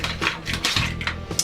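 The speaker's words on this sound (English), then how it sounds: "give it an aggressive stir, as you can see right here" Honey mustard dip stirred hard in a bowl, a quick run of clinking, scraping utensil taps against the dish, close and fairly quiet.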